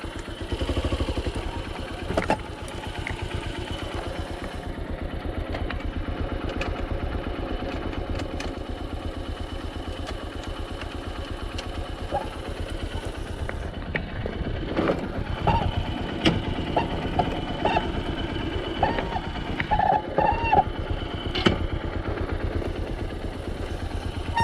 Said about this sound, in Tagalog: May motor oh.